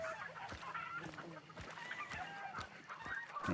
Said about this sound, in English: I am, however, hearing some chickens go off.